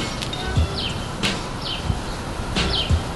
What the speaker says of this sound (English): You hear the birds in the background?